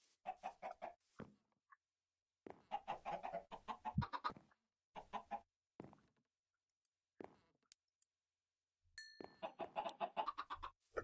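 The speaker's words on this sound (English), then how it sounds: "Producing some more chickens." Several Minecraft chickens give short bursts of clucking, repeated in quick clusters separated by silent gaps, close and clear with no voices.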